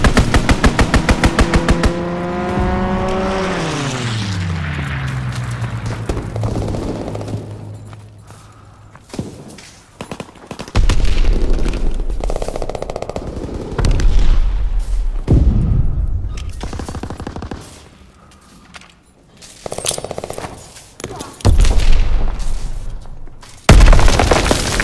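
Strafing run air attack in Call of Duty WWII: a rapid burst of heavy gunfire that sweeps down in pitch like a passing aircraft, then booming impacts, explosions and scattered shots, loud and close.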